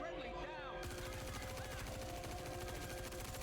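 Rapid automatic gunfire from a video game crackles in a dense, continuous burst, loud throughout, with a brief stretch of talk over the start.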